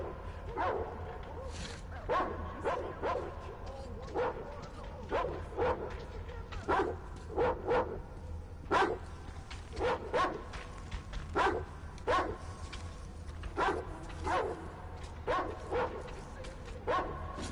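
Dogs in the video game Metro Exodus bark and yelp repeatedly in sharp, irregular bursts, fairly close and loud, with some whimpering cries over a low steady background hum.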